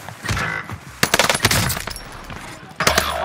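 Bursts of automatic gunfire from a Call of Duty Warzone match, a sustained volley early on and sharp clustered shots later, loud and close with game effects layered in.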